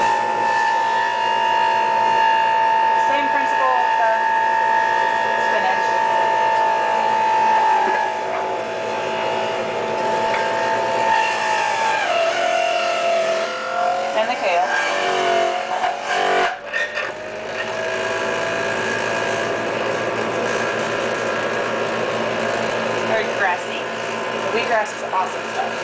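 An electric juicer runs loudly while juicing spinach for green juice, giving a steady motor whine whose pitch sags and wavers as leaves are fed in. A voice is heard in a few spots over the drone.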